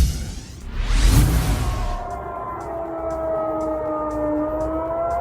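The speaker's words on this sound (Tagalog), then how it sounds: "Walang tigil ang tunog ng sirena" An air raid siren wails on and on in Moscow, a long steady tone with a loud whooshing swell in the first two seconds before the sustained wail settles.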